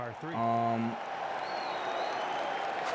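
Steady crowd applause from a PGA 2K25 golf gallery washes along at a moderate level, with a tonal chime at the start.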